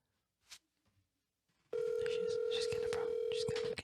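A telephone call rings out over speakerphone as a loud, steady electronic tone that starts abruptly and holds continuously for about two seconds, after some faint quieter sounds.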